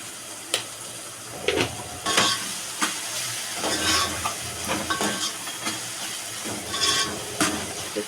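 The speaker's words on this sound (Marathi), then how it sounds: "आता याच्यात आपण हळद टाकून घेत आहोत।" Prawn biryani masala with turmeric being stirred and fried in a pan, giving a steady sizzle and hiss broken by repeated scraping strokes of the spoon, close and moderately loud, with no talking.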